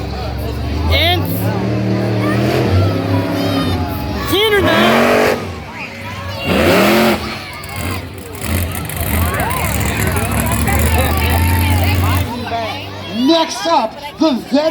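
A monster truck engine revs in an arena, loud low roaring surges that rise and fall with harmonic sweeps, under an announcer's amplified voice and crowd noise.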